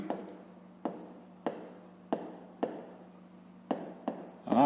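Pen strokes on paper as a fifth-grade maths problem is written out, close scratchy bursts arriving in a steady rhythm about every two-thirds of a second, alone without talk.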